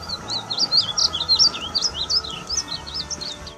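A painted bunting chirps in a rapid run of high, sweeping notes, repeated steadily and fairly close, with no voices.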